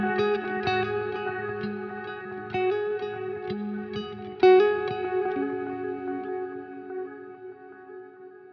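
Guitar notes run through a Strymon Timeline–style delay on a Line 6 Helix, each plucked note followed by clear repeating echoes that trail off with chorus shimmer, played alone without talk.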